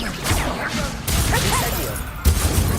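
A Levioso spell is cast in the video game Hogwarts Legacy, giving a burst of magical whooshing and crashing effects over a dense game soundscape, with a sharper impact near the end.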